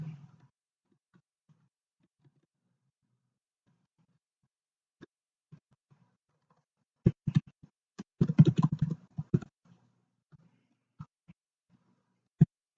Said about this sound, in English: And we're going to type.